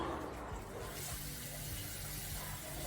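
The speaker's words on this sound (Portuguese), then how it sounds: "Coloco minha orquídea debaixo da torneira" A steady rush of tap water runs from a sink tap over an orchid held beneath it, continuous and fairly quiet, with no voices.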